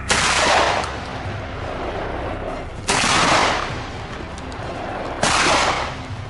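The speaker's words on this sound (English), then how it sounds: "The gunshot rang out, clean and decisive." Gunshots during a wild boar hunt outdoors: three loud, broad blasts spaced a few seconds apart, each with a long rumbling decay under a constant noisy background.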